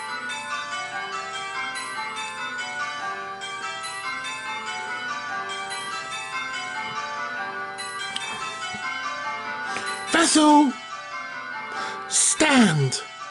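Nine tower bells ring Grandsire Caters in steady, overlapping change-ringing rounds, a continuous loud cascade of clanging tones, with a couple of brief sharper strikes near the end.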